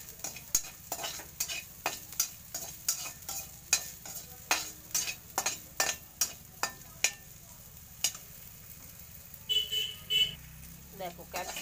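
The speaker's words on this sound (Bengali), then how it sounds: "দেখো ক্যাপসিকামগুলোকে আমি তুলে দিচ্ছি।" Pieces of fried capsicum are lifted out of a frying pan with a utensil, making a regular series of sharp scraping clinks against faint oil sizzle, close and distinct, then a brief burst of clatter at the end.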